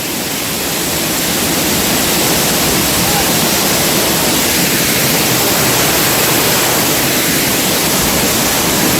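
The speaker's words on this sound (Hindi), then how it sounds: "हम पहुंच गए हैं वाटरफॉल की तरफ।" Steady roaring rush of a waterfall near a cave at Baijnath, Paprola, loud and continuous close by, a dense wash of falling water with nothing else standing out.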